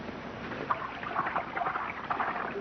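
A small babbling brook trickles and gurgles steadily in open country, a soft continuous stream of water heard alone with no talking.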